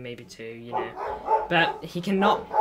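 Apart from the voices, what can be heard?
dog barking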